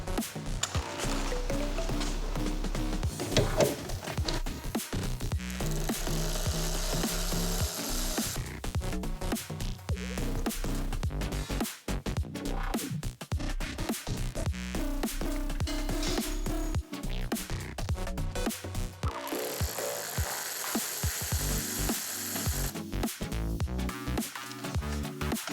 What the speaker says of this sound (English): I'll take out these 2 bolts here